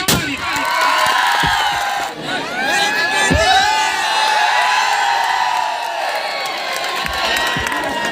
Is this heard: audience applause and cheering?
yes